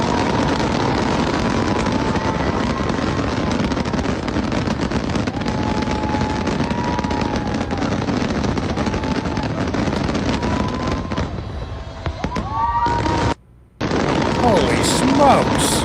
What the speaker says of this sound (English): in Abu Dhabi, I think they said something of a record with their New Year's Eve fireworks display